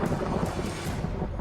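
Thunder rumbling through heavy monsoon rain during flooding, a low rolling roar under a steady hiss of downpour, continuous and fairly close.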